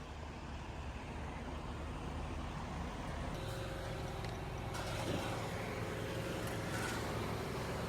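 A truck idles and creeps into a parking spot, a steady low engine rumble throughout with faint mechanical clunks and a soft hiss partway through, no talking.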